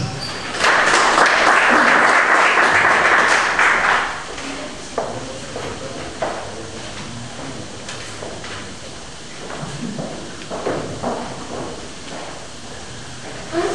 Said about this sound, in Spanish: Recibamos con fuertes aplausos.